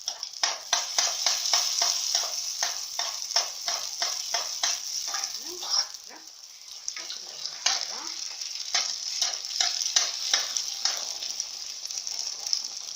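Sfenj dough fries in hot oil with a loud, continuous sizzle and crackle made of rapid popping bursts, recorded close to the pan, while a voice speaks faintly underneath.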